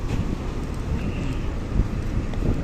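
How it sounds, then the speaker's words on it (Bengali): Steady, rumbling wind with light rain on a river buffets the microphone throughout, a continuous low roar with gusts rising and falling, no other distinct sounds standing out. "হালকা বৃষ্টি হচ্ছে আর প্রচুর বাতাস।"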